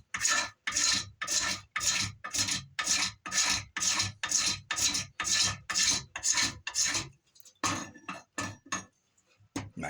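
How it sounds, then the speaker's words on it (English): Fatwood being scraped into shavings with a ferrocerium rod, a rapid series of about eighteen loud, close, rasping strokes in an even rhythm, then a few softer scrapes before quiet. "Scrape your fat wood off."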